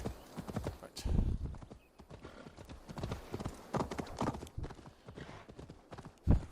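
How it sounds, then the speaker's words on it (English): Horse galloping in the video game Assassin's Creed Valhalla, with a fast, uneven clip-clop of hooves and a whinny, heard up close with a voice talking over parts of it. "Run, my pretty horse, run."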